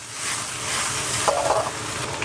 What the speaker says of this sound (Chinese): 现在另起锅来一点纯正的菜籽油，下入鱼骨头煎制